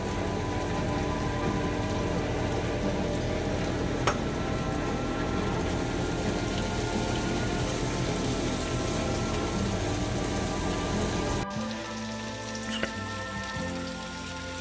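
Steady crackling sizzle of mushrooms and ground beef frying in a pan, continuous and close, with a brief stir and quieter sizzle near the end.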